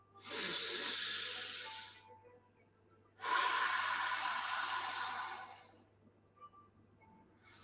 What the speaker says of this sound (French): On fait rentrer maintenant la respiration.